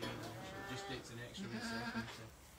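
Ginger goats bleat repeatedly in overlapping, wavering calls, close and fairly loud, several animals crying out in quick succession.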